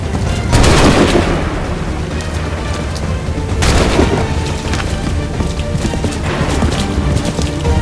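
Musket volley gunfire from a battle scene in the Assassin's Creed 3 video game, with loud booming blasts near 0.6 and 3.6 seconds over a dense, rumbling battlefield din, with horse hooves and other game sounds mixed in.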